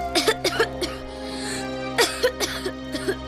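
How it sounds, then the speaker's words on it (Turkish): A child coughs in short bursts during a medical examination, several quick coughs, a pause, then another cluster of coughs, close and fairly loud. "Öksür şimdi."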